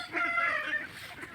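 Ducks on a farm flock of about 500 young birds, giving a short burst of nasal quacking and calling that rises and fades over a second or so, fairly close and without talk.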